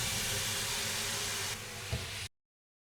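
Steam hisses steadily inside a 230 °C preheated oven where sourdough bolillo rolls are baking, a constant broadband rush that dips slightly and then cuts off.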